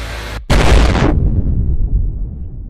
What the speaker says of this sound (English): let's see how big this explosion is